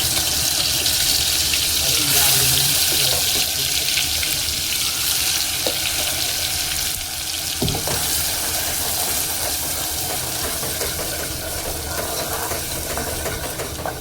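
Masala paste frying in hot oil, a loud steady hiss and crackle close by that fills the whole stretch, with occasional spoon scrapes and a voice talking over it.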